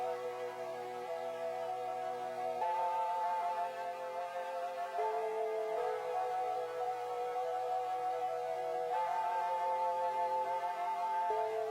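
A gritty synth preset sustains layered chords that shift every few seconds, with a steady harmonic drone and rich mid and upper overtones, loud and continuous with no voices.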